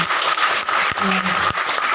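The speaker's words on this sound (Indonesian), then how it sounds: "Tepuk tangan dulu buat teman-teman Ibu." A crowd at a village gathering in Indonesia claps for the women, producing a brief, thick burst of applause with a voice audible over it.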